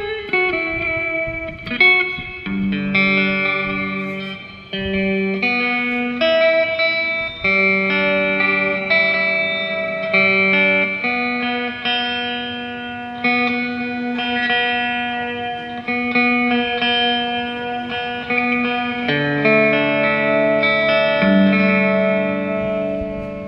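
An electric guitar plays through a Cuvave multi-effects unit, its tone adjusted, giving a sustained melodic line of ringing notes and chords with chorus shimmer and reverb tails. It plays steadily throughout with no voices.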